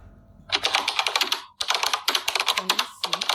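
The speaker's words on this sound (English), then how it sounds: "We want a sound that would make it seem like we are typing something using the keyboard typing." Rapid computer keyboard typing in close, dense bursts of clicking keystrokes, pausing briefly before resuming in quick clattering runs.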